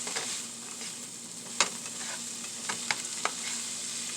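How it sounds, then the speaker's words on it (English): Onion sautéing in butter in a pan gives a steady, close sizzle, broken by a few sharp clicks of a utensil scraping and tapping the pan, with no voices. "let's saute the onion until let's caramelize"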